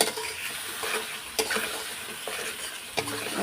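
Cumin, tomato, chilli paste, turmeric, Kashmiri chilli powder and salt are stirred in a pan for a fish curry, making a steady sizzle broken by a few scraping stirs, close by and without talk.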